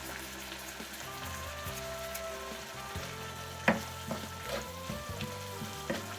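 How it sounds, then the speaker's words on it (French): Chicken moambe sauce bubbles softly in a pot as it is stirred, with a quiet steady simmer and a handful of light spoon taps and clinks. "je mélange le tout et je vais laisser mijoter tout doucement"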